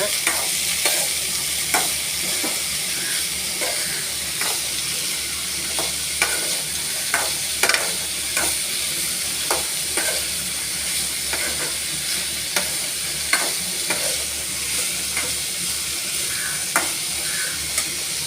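Chopped bitter gourd sautéing in hot oil, a steady sizzle and hiss broken by regular scraping and tapping as a spoon stirs it around the pan, each stroke repeating every second or so, no voices.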